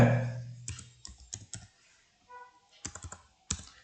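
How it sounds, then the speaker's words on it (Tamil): Someone types on a computer keyboard at a desk in short irregular clusters of crisp key clicks with pauses between them. A low voice fades out at the very start. "இப்போ இதில் போய் கலர் பிக்கர் அப்படின்னு டைப் பண்ணுங்க."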